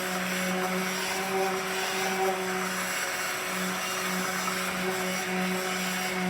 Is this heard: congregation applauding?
no